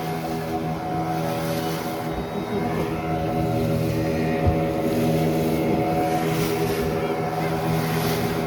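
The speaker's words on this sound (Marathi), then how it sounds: "यामाचं इंजिन लावलंय." A boat powered by a 150 hp Yamaha two-stroke outboard engine runs steadily at the coast of Malvan, Devbag, its engine drone and water rush filling the scene at constant, loud level, with wind noise on top.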